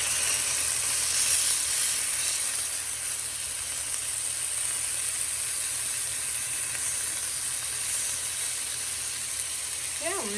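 Beef patties sizzling in a pan over medium-high heat, a steady loud hiss and crackle filling the whole stretch, with a brief scrape near the end as one is flipped.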